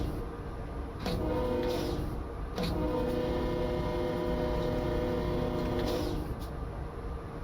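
A long coal train of hopper cars in the Train Sim Classic game rumbles along steadily, with wheel and rail noise underneath a couple of brief horn-like bursts and no speech.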